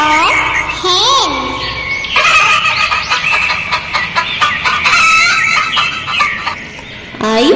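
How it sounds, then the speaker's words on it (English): A hen clucks and a rooster crows in short repeated calls over a barnyard din, with sung or spoken voices mixed in between. "H for hen."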